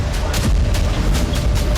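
Booming, rumbling barrage of Iranian missiles striking Israel in news footage, a dense continuous roar with repeated crackling bursts and deep low-end thuds throughout, loud and unbroken.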